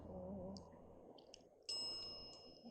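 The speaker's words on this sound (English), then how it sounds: "I think you just like playing with the bell." A bell rings at a cemetery, giving a bright ding that rises sharply out of steady background noise and rings on as it fades, with a few fainter metallic taps before it.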